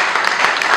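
A short burst of steady applause from a crowd, dense clapping filling the moment.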